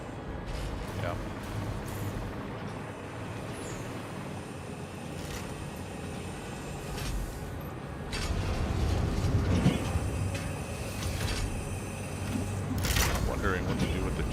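A train rolling along rails in the factory-building video game Satisfactory, a continuous mechanical rumble with clattering wheels that swells louder partway through, with a voice talking over it.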